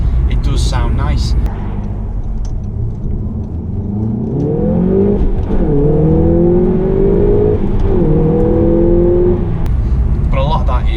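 An Audi S1's engine revs up and down in a few rising and falling pulls, heard close and fairly loud with a whirring tone, while a person talks over it at the start and near the end.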